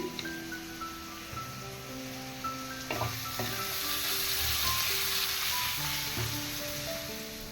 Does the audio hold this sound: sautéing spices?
yes